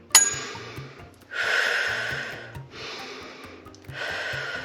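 Slow, steady breaths in and out, three long exhalations with quiet pauses between, close and calm, a low rhythmic hum beneath.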